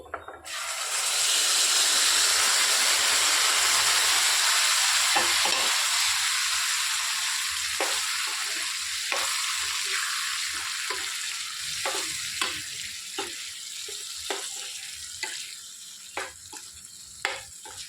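Moong dal hits hot tempering oil with asafoetida in a cooker, bursting into a loud, hissing sizzle that slowly settles while a spoon scrapes and taps the pot in a steady rhythm.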